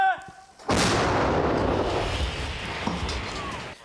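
A heavy artillery gun fires once with a sudden, deafening boom, followed by a long rumbling echo that slowly fades.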